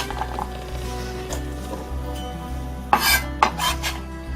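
Sliced ginger dropped into a pot while making Korean pear tea, giving a few soft clatters and knocks, then two sharper bursts near the end, close and with no talking.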